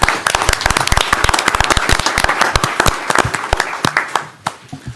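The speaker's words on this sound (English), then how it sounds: "I think it'd be great to give them a round of applause for that" Board of directors meeting audience clapping for the Jackson House and Hope Works program, a dense burst of close, sharp hand claps that thins toward the end and fades out.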